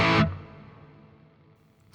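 A high-gain distorted guitar chord from a Boss GT-1000 Core rings out briefly, then a Hall 2 reverb tail decays smoothly over about two seconds before another note begins.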